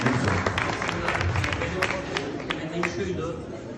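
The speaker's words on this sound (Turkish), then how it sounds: "Bir alkış alalım." Applause from an audience at a customs brokerage awards ceremony, a brisk, fairly quiet patter of many hands with crowd murmur and voices underneath.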